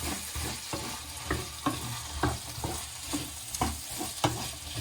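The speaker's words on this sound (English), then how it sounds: "Now what we have to do is just we stir it a little bit to heat up the chickpeas as well and to mix it completely together" A spoon scrapes and stirs chickpeas with paprika paste, olive oil, black pepper and Turkish red pepper flakes in a pan. The close scrapes recur every half second or so over a steady soft sizzle, with no voices.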